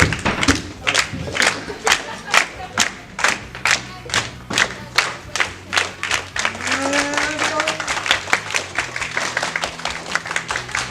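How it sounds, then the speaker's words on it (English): Church audience clapping in unison, loud rhythmic claps with thuds at a steady beat, later joined by cheering voices and crowd noise as the clapping continues. "guys want to still clap like you do."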